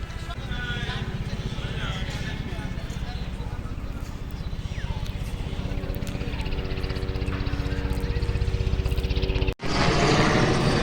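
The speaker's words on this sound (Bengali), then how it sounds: "হেলিকপ্টার গেল স্মৃতিসৌধের উপরে থেকে।" A helicopter passes over Bangladesh's National Memorial, its rotor beating in a rapid, steady thump that stays loud throughout, with voices in the background.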